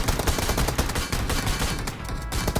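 Rapid, dense gunfire in the mobile game PUBG Mobile, shots cracking back to back without pause for the whole stretch.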